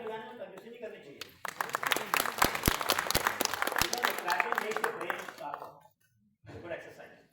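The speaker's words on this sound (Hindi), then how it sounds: "ताली बजाने में कंजूसी नहीं करनी चाहिए।" Audience applause at a live talk event bursts in loud and dense, a sustained wash of clapping lasting several seconds before cutting off, then a brief second burst; a voice is heard faintly before it.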